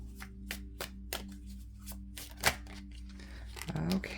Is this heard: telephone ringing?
no